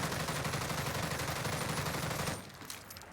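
XM4 rifle hip fire in Warzone, a dense unbroken burst of rapid automatic gunshots that stops abruptly after about two seconds, leaving a faint tail.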